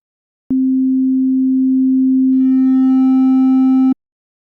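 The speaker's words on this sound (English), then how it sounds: "as the sine wave is clipped more and becomes flattened more and more" A steady pure sine-wave tone sounds alone for a few seconds, then turns buzzier and harsher as it is clipped more and more and overtones build up, before it abruptly stops.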